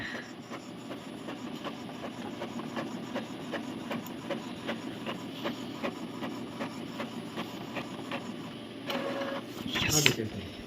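An Epson EcoTank L3212 colour printer prints a page with a steady, rhythmic mechanical chatter of repeated clicks over a constant hum, ending in a louder burst of paper feed noise.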